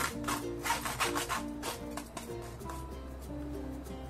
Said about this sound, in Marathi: आणि चाळणीवरती असं किसून घ्यायचं व्यवस्थित.